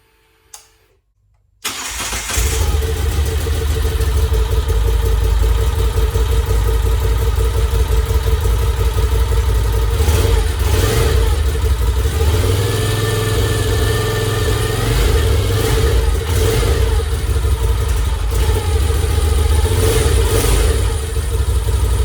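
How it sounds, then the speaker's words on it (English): A 2013 Moto Guzzi V7 Racer motorcycle fires up after a brief starter crank and settles into a loud, steady close-up idle, with several short blips of revving rising above the throbbing engine. "So let's start this thing up. Let you hear it."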